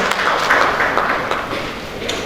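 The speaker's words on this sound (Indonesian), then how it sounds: "kita berikan tepuk tangan sekali lagi" An audience at an indoor commemoration of Youth Pledge and Heroes' Day in Malang applauds, a dense patter of many hands clapping that stays steady and fairly close, then thins slightly toward the end.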